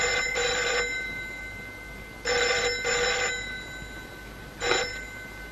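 A telephone rings in a police station office, three separate bursts of an old-style electronic bell with short pauses between them, clear and close.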